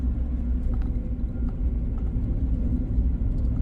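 Pickup truck engine straining up a snowy hill, a low continuous rumbling drone held steady throughout, close and loud with no talk.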